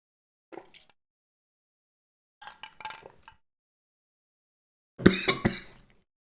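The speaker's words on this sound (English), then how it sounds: "That was just a cough." A few scattered faint coughs, then a louder, harsher burst of coughing near the end while tasting cola, close by with quiet gaps between.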